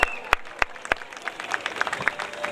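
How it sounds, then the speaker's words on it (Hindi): An audience at an ex-servicemen association function claps, a few sharp close claps standing out over scattered, moderate applause from a crowd. "एक बार फिर से जोरदार तालियां हो जाए फॉर अनन्या गुप्ता।"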